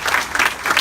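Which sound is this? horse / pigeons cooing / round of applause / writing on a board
round of applause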